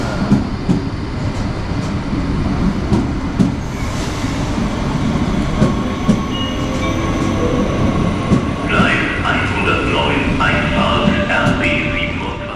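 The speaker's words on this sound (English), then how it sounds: "we can now take a look at what kind of train is arriving into the station of Koblenz." A class 425 train rumbles into Koblenz station, wheels clicking over rail joints, then high brake squeals rise near the end as it slows to a stop.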